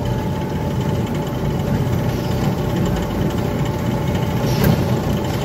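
Kiddie ride car on the Jokey's Jalopies track in Kidzville at Canada's Wonderland, a steady low motor hum and rolling rumble running continuously, fairly loud and close, with no talk over it.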